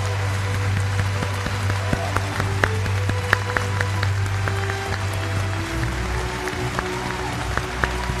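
Steady applause from a small group fills the clip, scattered sharp claps over a continuous patter, with a low hum underneath.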